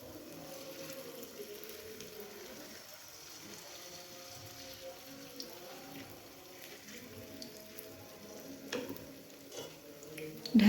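Vegetable paratha filling is stirred in a pan with a faint sizzle and soft scraping of a utensil, quiet and continuous throughout.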